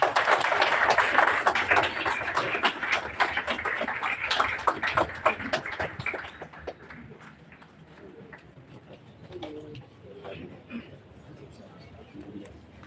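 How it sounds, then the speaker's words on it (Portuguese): Crowd applause at an embassy inauguration ceremony in Timor-Leste, dense clapping for about six seconds before it thins out, with voices and murmur continuing underneath. "Uma salva de palmas"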